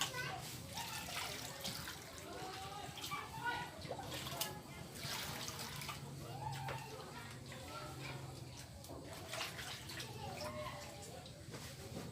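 Water splashing and trickling as a large fish, about two kilos, is rinsed for a Lao-style steamed fish dish, a steady wet sloshing throughout with some voices in the background.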